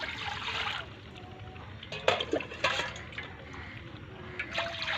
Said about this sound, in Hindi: ये वाले 3 गिलास में पानी शामिल कर रहा हूँ।